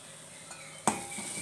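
Cooked-down onions for a Kerala onion curry are stirred in a pan with a utensil, giving a soft background sizzle and one sharp scrape or clink of the spoon against the pan midway through.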